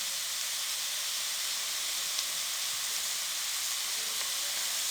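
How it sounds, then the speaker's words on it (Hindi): Potato-and-mint patty stuffing frying in a kadai gives off a steady, even hiss and sizzle that runs unbroken and fairly close, with no voices. "अब इसको हम 1 से 2 मिनट के लिए फ्राई कर लेंगे"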